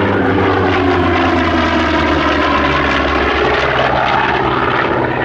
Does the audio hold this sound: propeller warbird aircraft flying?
yes